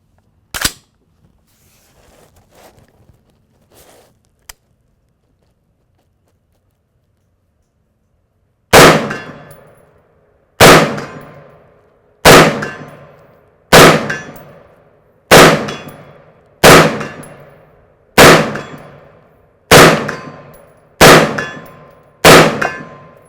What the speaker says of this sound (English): I'm getting a really nice ring out of the target